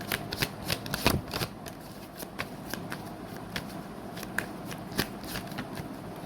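Tarot cards are shuffled for a reading in a steady flurry of soft riffles and crisp snaps, close and quiet, and no one speaks.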